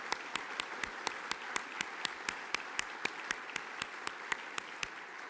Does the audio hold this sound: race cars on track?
no